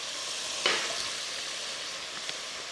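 Meat fries in a pan for Szeged goulash, producing a steady, close hiss of sizzling fat with a soft stir or clatter near the start and a small pop later.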